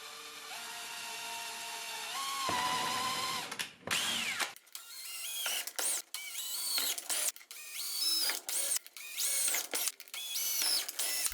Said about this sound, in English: I drilled out the holes for the bolts with a 5/16 inch drill bit.